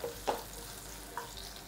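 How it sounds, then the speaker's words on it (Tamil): Onions dropped into hot oil in a pan for an egg side dish, giving a soft steady sizzle with a brief louder crackle near the start and another a second later, close and without talk. "இப்போ எண்ணெய் நல்லா காஞ்சதும் இந்த வெங்காயத்தை சேர்த்துக்கலாம்."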